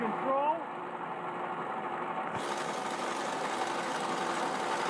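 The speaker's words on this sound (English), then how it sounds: "And it starts spinning the drum." A Koenig winch drum spins, driven by the engine of a Jeep CJ2A, giving a steady mechanical engine drone with a rough running texture that holds constant throughout, with a brief whine near the start.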